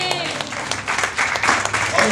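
An audience at a religious sermon claps in a loose, uneven burst of applause, moderately loud and close, while a voice speaks over it.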